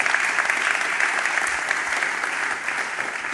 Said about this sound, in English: Please give a nice warm round of applause for our guests.